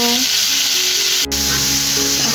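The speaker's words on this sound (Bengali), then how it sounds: "এইদিকে মাছ ভাজা বসিয়ে দিয়েছি, মাছটা এখানে ভাজা হতে থাক" Steady loud sizzling of fish frying in a silver-coloured pan, a continuous crackling hiss with a brief clatter midway.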